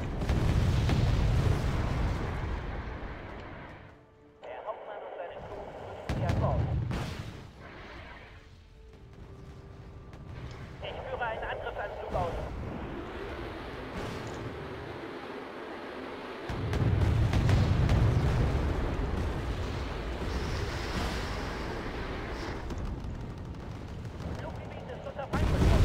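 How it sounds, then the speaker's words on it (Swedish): Artillery bombardment in a war video game, with deep rumbling booms and blasts rolling on almost continuously at high volume, swelling in heavy bursts, while a voice talks over the barrage. "Jag tror att jag precis lyckades artilleribomba mina egna killar här alltså."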